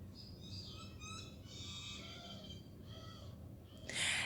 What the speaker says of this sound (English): as you can hear in my setting, I have a lot of birds